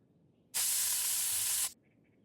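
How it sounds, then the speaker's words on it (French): An aerosol can of air freshener in a cartoon gives one steady, loud hiss lasting just over a second, starting and stopping abruptly, with near silence before and after. "Ah ben, c'est du désodorisant."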